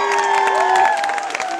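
A live concert crowd in Visciano cheers and shouts for the show, a loud dense wash of voices with whoops and sustained yells and scattered clapping underneath.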